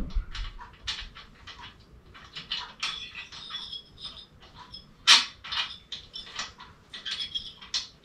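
A spark plug is turned by hand into the engine of a Parajet Maverick paramotor, making a rapid series of close metallic clicks and ratcheting scrapes, with one sharper clack in the middle. No one speaks.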